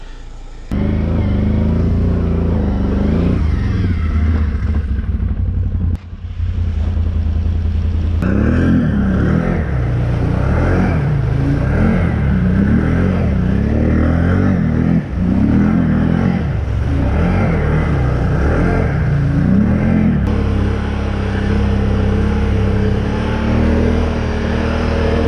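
A Can-Am Renegade 1000 ATV engine revs and strains loudly and steadily, pulling a Jeep Compass Trailhawk out, with engine note rising and falling throughout and clattering noises mixed in.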